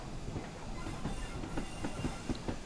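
An SECR C Class steam locomotive in the Train Simulator 2019 game runs with a quiet, steady rumble and a regular clickety-clack of wheels over rail joints, with no talk.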